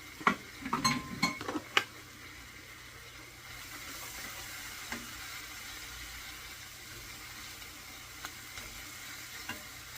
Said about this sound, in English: Okay, so we're going to put some onion in here.